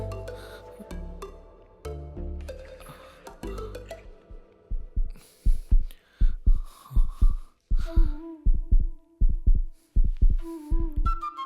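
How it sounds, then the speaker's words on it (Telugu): Heartbeat sound effect from a Telugu movie scene, a loud, close, steady thumping pulse that starts under a musical score and then repeats alone as evenly spaced double beats. "గుండె చప్పుడు ఎక్కువైంది"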